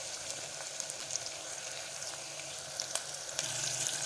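Chopped tomato tipped into onions frying in a pan for hotel-style chicken kulambu, a close, continuous crackling sizzle with scattered sharp pops, no voices.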